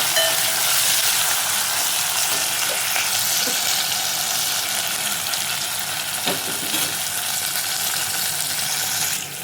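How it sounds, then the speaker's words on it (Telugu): Poha (flattened rice) sizzles steadily in a pan with salt, a continuous bright hiss of frying with occasional faint stirring scrapes, close and fairly loud throughout. "ఇది కొంచెం వేగేంత వరకు వేగనిద్దాము"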